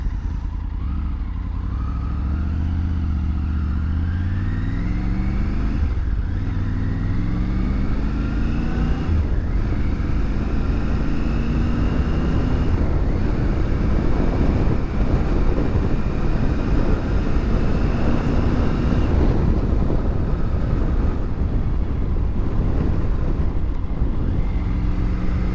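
Motorcycle ridden along a road, engine droning steadily and close throughout with rising and falling revs as it shifts through gears, wind rush underneath, no talking.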